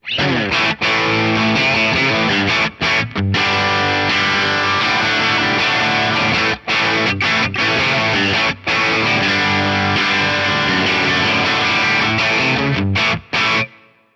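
Heavily distorted electric guitar through an amp modeler plays a continuous, gritty, grindy chordal riff, loud and dense, with a few brief gaps between phrases.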